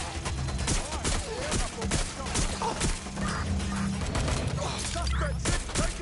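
Gunfire in Watch Dogs crackles in rapid volleys and sharp single shots, dense and loud, with impacts and shattering mixed in and voices calling out between the bursts.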